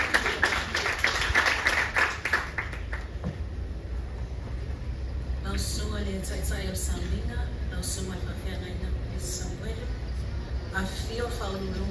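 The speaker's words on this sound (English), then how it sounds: "We can applaud her." Brief applause at an International Women's Day ceremony at Fugalei Market in Apia, a burst of crowd clapping in the opening seconds, then fading beneath talk and steady background hum.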